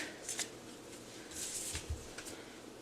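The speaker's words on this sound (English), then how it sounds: "We're going to start shuffling, though." Tarot cards being shuffled by hand: soft, continuous riffling and sliding with a few brighter flicks, close and fairly quiet, with no talking.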